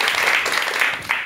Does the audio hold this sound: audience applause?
yes